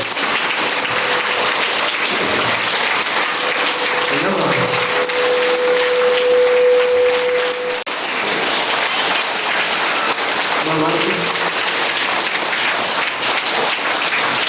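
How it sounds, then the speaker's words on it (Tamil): Sustained applause from an audience at a children's event held by a Ramanuja charitable trust, dense steady clapping filling the whole stretch, with a sustained tone and a few voices briefly rising through it midway. "உங்களுக்கு நீங்களே கைத்தட்டிக்கணும்"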